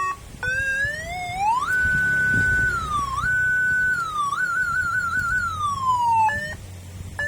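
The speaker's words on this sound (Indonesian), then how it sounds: "Ini jenis ambulan." Electronic ambulance-style siren from a police-escort siren unit fitted to a Honda Scoopy fi motorcycle, loud and close, a steady high wail that holds, dips and wavers before cutting off near the end.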